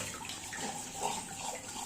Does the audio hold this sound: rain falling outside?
no